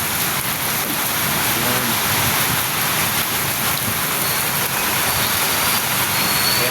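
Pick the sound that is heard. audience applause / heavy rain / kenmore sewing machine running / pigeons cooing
heavy rain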